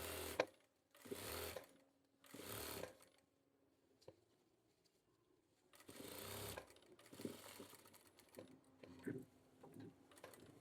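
A sewing machine stitches a shirt in several bursts of steady, close mechanical whirring, separated by short pauses, with no talking.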